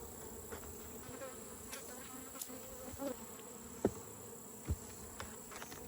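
Honeybees buzz agitatedly while being shaken in a container, a dense droning hum with scattered soft knocks and taps from the handling, fairly quiet and close.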